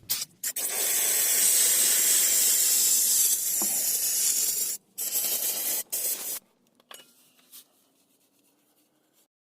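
Brake cleaner sprays in a long, steady hiss over engine parts of a 2007 GMC Yukon 5.3L during an engine flush and oil change, followed by a few shorter bursts before fading to quiet.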